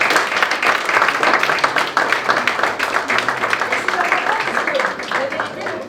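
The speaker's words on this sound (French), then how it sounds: "je vous propose d'applaudir tous vos professeurs" A school audience at a lycée ceremony, where regional computers are being handed out, applauds the teachers with dense, sustained clapping close by, mixed with murmuring voices.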